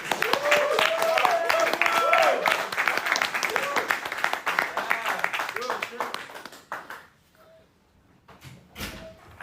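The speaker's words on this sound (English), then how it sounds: "Yeah, you could clap for him." Audience clapping for Shimon, a dense wash of applause at a religious gathering that runs strong for several seconds, then thins out and fades, with a brief burst near the end.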